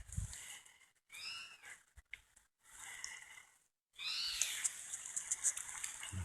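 Bird calls in a wooded outdoor setting, several separate rising chirps and trills in short bursts with quiet gaps between them, then a longer, busier calling passage, fairly faint.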